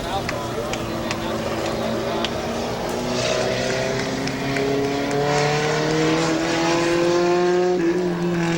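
Race cars roaring around Midvale Speedway, several engines rising and falling in pitch as they pass at steady loud volume, with an announcer talking over the din.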